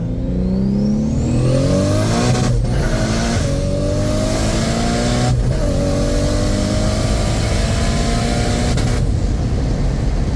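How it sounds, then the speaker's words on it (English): A Lexus IS300 engine revs hard and loud, its pitch climbing steadily. It is cut short at the fuel safety cut a few times, with each cut causing a brief drop before it pulls up again. "that was me hitting the fuel safety cut"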